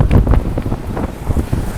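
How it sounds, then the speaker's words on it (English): Strong wind outdoors on a city street buffets the microphone in loud, gusty low rumbling bursts throughout. "it's real windy."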